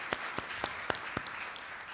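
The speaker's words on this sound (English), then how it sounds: "Clap for her." Scattered, sparse claps sound in a conference hall, five or six distinct slaps spaced about a quarter second apart, moderately close with no talk over them.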